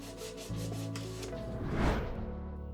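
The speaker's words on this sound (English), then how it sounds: "I'm sanding the bulkheads to the right shape so the hull planks can fit snugly." Continuous rasping of sandpaper rubbed back and forth over the wooden bulkheads of a model Viking longboat, close up and steady, with no voices.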